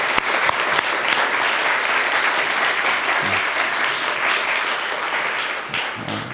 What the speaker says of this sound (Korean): 우리 한번 크게 박수했으면 좋겠습니다